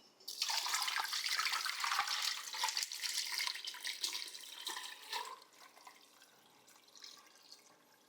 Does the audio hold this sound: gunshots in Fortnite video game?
no